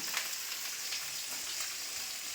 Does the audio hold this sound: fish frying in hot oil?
yes